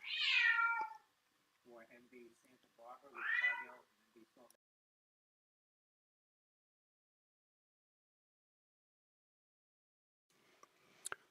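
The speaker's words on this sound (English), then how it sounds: "Had to kind of shoo off the cat there screaming" A female cat meows and yowls loudly up close in a few drawn-out, strained cries with shorter chirping calls between, then long silence before faint movement and a click.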